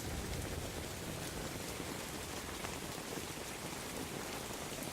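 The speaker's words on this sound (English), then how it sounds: "But the rain is beautiful." Steady heavy rain falls in a thunderstorm near Starkey Park in Pasco County, an even, dense hiss of drops on surfaces that stays constant throughout with no voices and no distinct thunder.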